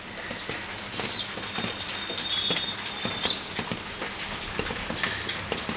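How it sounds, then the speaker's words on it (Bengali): Rain falling steadily after a night of rainfall, a dense patter of drops with irregular louder taps and drips close by, plus a brief faint high whistle. "এই যে আমাদের এখানে বৃষ্টি শুরু আজকের থেকে না, গতকালের রাতের থেকেই বৃষ্টি শুরু হয়ে গেছে।"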